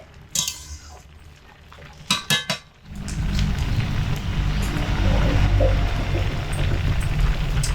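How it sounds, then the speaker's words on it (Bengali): A pot of banana flower (mocha) boiling on the stove is stirred, opening with a few clinks of a utensil against the metal, then giving way to a steady, loud bubbling roar of the boiling water that continues to the end. "মোচা সিদ্ধের পাঁচ মিনিটের ফাঁকে একবার মোচাগুলো একটু হালকা নেড়ে চেড়ে দেবো"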